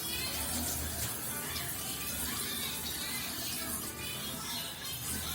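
Running water rinses salt water off seeds, a steady, even wash of moderate loudness that continues unbroken with no talking.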